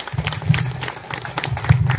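An audience at a realty and construction company's year-end Christmas party claps in a short, moderately loud burst of scattered applause.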